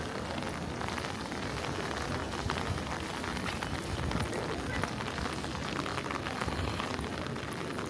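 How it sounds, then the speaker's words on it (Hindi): Steady rain falling in Nice, France, a dense continuous patter of drops on hard surfaces outdoors, even and fairly loud with no pauses. "आई नो बारिश हो रही है"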